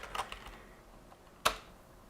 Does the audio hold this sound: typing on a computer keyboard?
yes